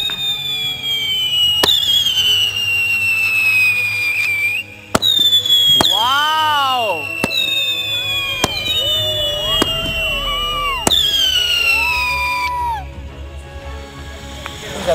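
Several rising whistles from whistling firework rockets made in Sivakasi shriek one after another, each ending in a sharp crack or pop, with a steady rumble of background noise.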